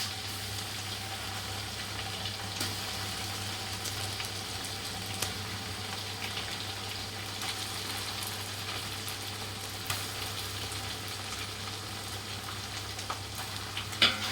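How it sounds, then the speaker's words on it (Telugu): Ginger garlic paste fries in a pan of oil for mutton biryani, giving a steady, even sizzle close by. Occasional faint clicks of stirring sound over a low hum, with no one talking. "ఇప్పుడు కొంచెం అల్లం వెల్లుల్లి పేస్ట్ దాంట్లో వేయాలి"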